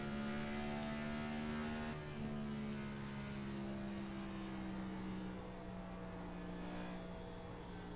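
Race car engine in a simulated oval racing game, a steady sustained drone with slowly shifting pitch and no voices.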